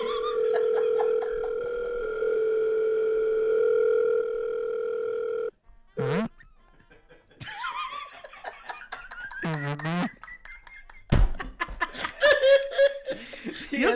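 A steady telephone dial tone drones loudly for about five seconds at the start of a phone call, then cuts off as laughter and chuckling voices take over.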